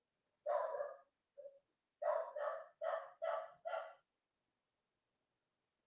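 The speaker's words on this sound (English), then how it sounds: "we don't typically have dogs barking" A dog barks repeatedly nearby: one bark, a brief yip, then a rapid run of five barks before falling silent.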